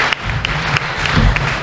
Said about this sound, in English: Let's have a hand of applause for